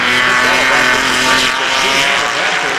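Race cars circling the track at the 1996 IMSA endurance race at Sears Point, a loud, steady engine roar with shifting pitch, under a commentator's voice.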